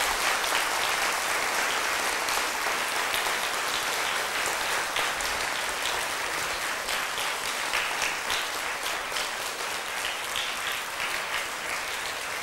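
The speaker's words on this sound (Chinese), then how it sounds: "所以大家一起热烈的掌声鼓励一下吧" Audience applause at a large Buddhist lecture, dense sustained clapping from a big crowd that stays steady and fairly loud throughout, slowly thinning slightly toward the end, with no voices.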